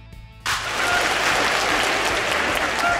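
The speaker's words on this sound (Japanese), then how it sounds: "異常な拍手をいただきましたね" Loud, sustained applause from a theater audience at a Kobe comedy performance, breaking out abruptly after a brief quiet moment and continuing as a dense, steady wash of clapping.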